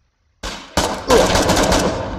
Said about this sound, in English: I'm about out of ammo with the machine gun